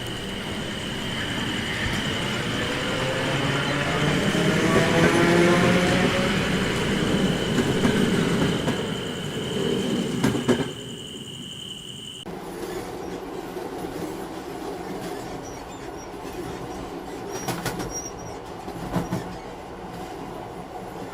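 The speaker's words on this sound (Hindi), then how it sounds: "और जैसे ही ट्रेन आती है," Train pulls in and runs along the rails, loud and close with a steady rumble and wheel squeal; after about 12 seconds it drops to a quieter ride inside the coach at night.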